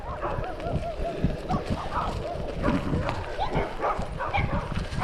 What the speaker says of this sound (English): Dog's out.